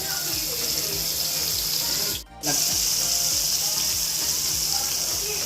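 Bombil fish fry in a pan, a dense continuous sizzle that cuts out for a brief moment and then resumes just as strong.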